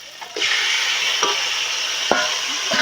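Chicken offal frying in a pan gives a steady loud sizzle, broken by a few sharp scrapes and clacks as a utensil stirs the pieces.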